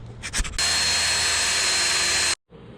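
A few short clicks and bumps, then a power drill whines loudly and steadily for nearly two seconds, drilling a hole for a rib nut on a C6 Corvette, before stopping abruptly.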